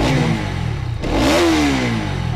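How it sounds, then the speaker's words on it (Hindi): A Bajaj Pulsar NS 200 motorcycle with an underbelly exhaust idles, then revs up in a quick rising blip and settles back, close and loud, with no talking. "और एग्जॉस्ट नोट मैं आपको इसका सुना देता हूँ।"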